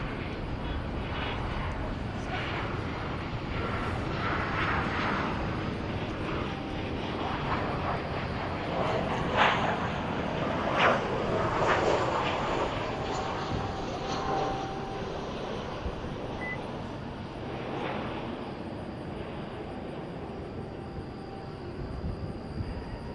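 An airliner arrives from Nashville at DFW at night, its steady, moderately distant jet rumble swelling slightly midway, with faint voices beneath.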